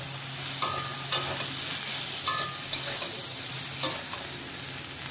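Chopped vegetables tossed into a pan of fried onions and turmeric-tinted oil and stirred, giving a steady close sizzle with a few sharp scraping spoon strokes about once a second; no talking.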